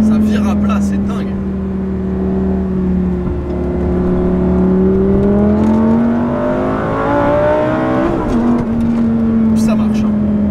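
Naturally aspirated 5.2-litre V10 of a Lamborghini race-style car at the Castles Rally, revving loud and steady while cornering, its pitch rising and falling as the engine pulls, with someone talking over the drone.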